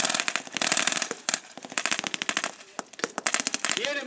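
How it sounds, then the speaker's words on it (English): A heavy machine gun firing at roughly 800 rounds per minute, long rapid bursts of loud close shots with a brief gap between strings of fire. "The enemy have a heavy machine gun, putting down approximately 800 rounds per minute."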